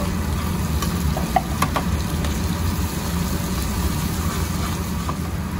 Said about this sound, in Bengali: হলুদের গুঁড়ো, লঙ্কার গুঁড়ো দেবো, একটু আমচুরের পাউডার। ভালো করে এটা কষিয়ে নেব।